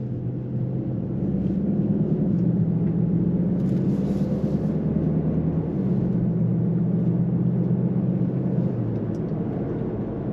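A Cupra Formentor 245 hp hybrid in Cupra mode hums with its synthetic Active Sound engine note, a smooth steady low tone that bends slightly in pitch, heard from inside the cabin without talk.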